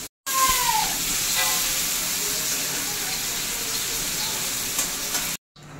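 Panch phoron spices sizzle loudly in hot oil in a pan, used for bitter gourd and potato, a steady bright frying hiss running almost the whole time before cutting off near the end.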